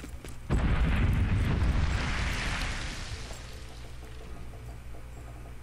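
A single heavy explosion bursts in the Valiant Hearts World War I game, a sudden loud boom that hits abruptly and then rumbles and fades slowly over several seconds.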